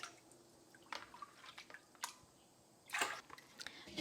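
Whey drains off Gouda cheese curds as the liquid is poured away. Faint, sparse drips and small splashes sound close by in a quiet room, with a slightly louder trickle near the end.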